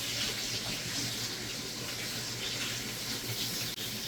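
Meat drippings from a beef pot roast pour steadily into an Instant Pot, making a continuous close liquid splash and gush that runs unbroken for a few seconds.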